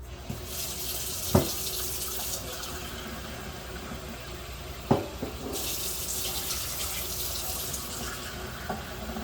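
Water pours steadily into a pot already holding milk for grits, in two separate streams, with a couple of sharp clinks of metal in between.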